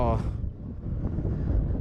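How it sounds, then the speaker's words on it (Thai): Strong cold north wind buffets the microphone in a steady low roar beside a parked Isuzu FXZ360 truck, continuous and close with no gaps. "ลมแรงมากเลยนะ ทางทิศเหนือนะ ลมแรงกันเลยทีเดียว"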